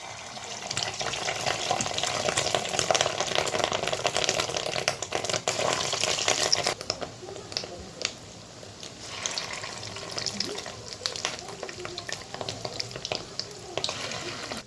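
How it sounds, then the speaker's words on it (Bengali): Rohu fish roe fritters dropped into hot mustard oil in a kadai, a dense, steady crackling sizzle that stays loud for several seconds and then settles to a lighter, more scattered bubbling. "তো আমার তেল গরম হয়ে গেছে এখন ছোট ছোট করে আমি বড়াগুলো ছেড়ে দেবো"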